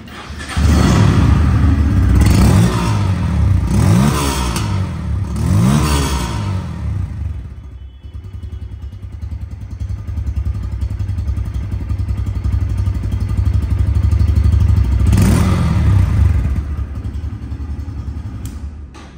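A Bajaj Pulsar N160 FI ABS motorcycle engine runs steadily up close for about nineteen seconds, with a few throttle blips near the start and again mid-clip, then settles into an idle rumble with no talking.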